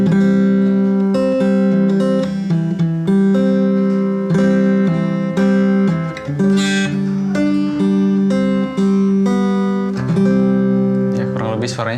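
A cheap plywood beginner acoustic guitar, priced around 100 to 200 thousand rupiah, is strummed through a steady run of ringing chords that change every second or so, played close and loud with no talking.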